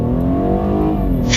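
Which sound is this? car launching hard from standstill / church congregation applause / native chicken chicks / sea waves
car launching hard from standstill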